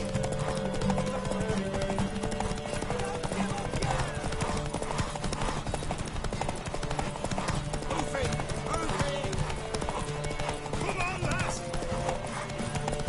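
Steady galloping hoofbeats and a few neighs from a horse in The Witcher 3, running continuously beneath game music and bursts of spoken dialogue.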